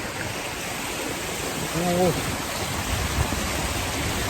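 A waterfall at a scenic spot in Kuwait rushes in a steady, loud, broadband wash that barely changes, with a brief voice surfacing faintly partway through.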